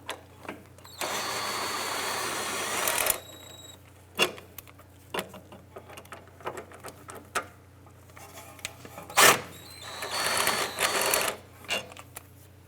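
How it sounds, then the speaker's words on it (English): A 14mm swivel socket on a ratchet or power tool removes front subframe bolts on a 2004-2008 Acura TL, with sustained whirring bursts and scattered clicks and clanks of metal nearby. "Using our 14mm swivel socket, we're going to go ahead and remove these bolts."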